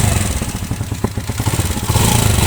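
A Zara 110cc motorcycle engine runs just after a full engine fitting, a close, loud, steady chugging idle with a rapid pulsing rhythm and a slight rise near the end.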